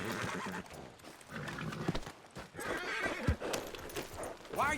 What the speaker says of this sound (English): Fui atropelado por um cavalo, velho.